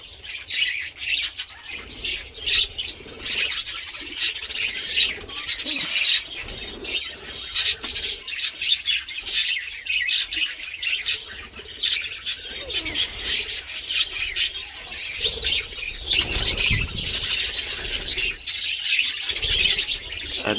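A flock of birds feeding, the birds chirping, squealing and cooing together in a dense, continuous chatter of short calls, fairly close and loud throughout.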